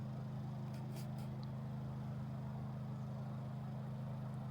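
A Honda EU2200i inverter generator runs at a distance near a fire pit, a steady low hum holding one even pitch without change, with a few faint brief ticks above it and no talking.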